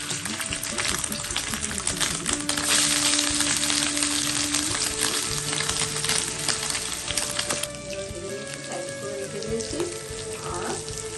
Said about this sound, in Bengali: সয়াবিনগুলোকে একটু ভেজে নেবো।